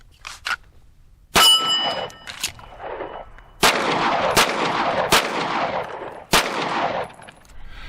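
Several loud, sharp pistol shots from a Canik Rival-S steel frame handgun, fired close with irregular gaps and ringing decay after each report, plus a faint metallic clink early on.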